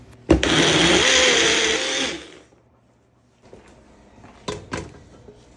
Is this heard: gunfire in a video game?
no